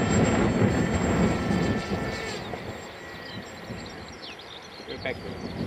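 An AXN Floater radio-controlled model plane flies into the wind at three-quarter power, its motor giving a steady airborne whine that fades slightly over the seconds, with some wind noise and a faint voice in the background.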